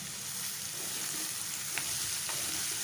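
Chopped radish for a Kerala-style vegetable dish sizzles and fries in a pan while it is stirred, a steady close crackling hiss with faint scrapes of a spoon.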